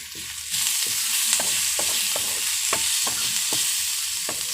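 Onions sprinkled with salt fry in a pan, a constant close sizzle broken by regular, evenly spaced scrapes and taps of a spoon stirring them, with no voices.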